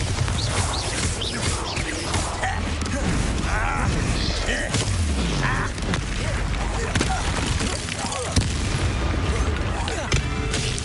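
Repeated explosive blasts from a Bombarda spell in the video game Hogwarts Legacy, loud booming impacts and crashes layered over dense game battle noise throughout.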